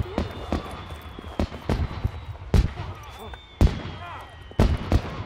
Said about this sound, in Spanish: Esos son los cohetes artificiales